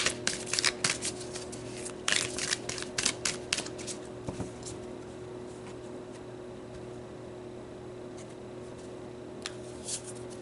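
Star Temple oracle cards being shuffled and drawn from a deck, a flurry of crisp riffling flicks in the first few seconds, then near quiet with a couple of faint card taps.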